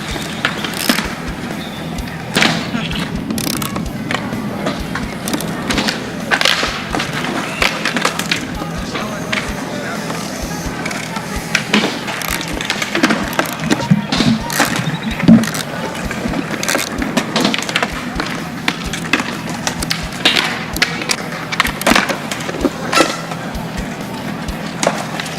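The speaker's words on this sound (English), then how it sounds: "you're going to take your screwdriver and your wrench, just tighten them down even more." Skateboard truck nuts and bolts are tightened with a screwdriver and wrench, giving intermittent close clicks, scrapes and metallic taps in an irregular rhythm over a quiet room background.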